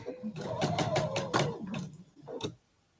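A sewing machine stitches diagonally across a quilt block in a short rapid burst of needle clatter, mixed with talking, then stops to near silence.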